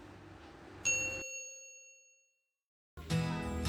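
A single bright bell ding rings out and fades away into silence, followed by a burst of sound.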